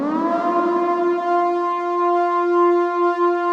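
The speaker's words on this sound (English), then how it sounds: "A little siren." Synthetic siren effect inside a melodic drum and bass track, a bright steady tone that swells slightly and holds for a few seconds, clear and alone.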